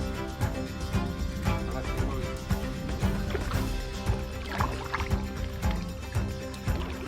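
A kayak paddled on water in Ireland, with repeated soft splashes and dips of the paddle in a steady rhythm, close and fairly quiet.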